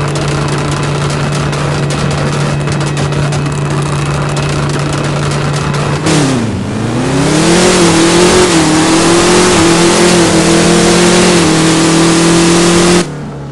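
A Camaro in the No Limit Drag Racing 2.0 game idles loudly, then launches and revs hard through the gears in rising whines until the sound cuts off abruptly, with no speech.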